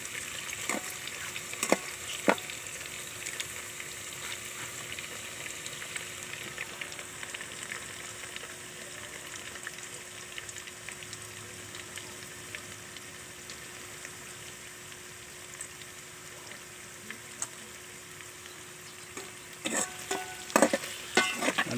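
Mung beans fry in a pan while being stirred, giving a steady close sizzle with a faint watery bubbling underneath and a few sharper scrapes and clinks of the stirring utensil, with no talk.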